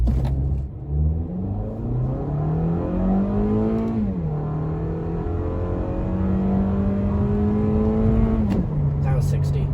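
A 2023 Toyota Camry SE with an 8-speed automatic launches hard from brake torque, its engine note climbing through several upshifts with clear drops between gears, loud and steady from inside the cabin.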